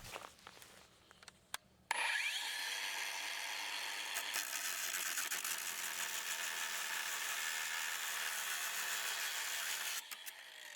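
A RIDGID 7-inch 18V brushless OCTANE grinder cuts through half-inch rebar, a loud continuous high-pitched metallic grinding whine that starts abruptly after a brief quiet lead-in and holds steady before easing near the end.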